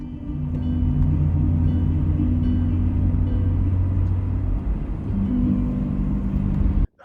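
A classic BMW car climbing a mountain pass, its engine holding a steady, loud droning rumble with a slight dip and rise in pitch partway through, heard close and alone without talk.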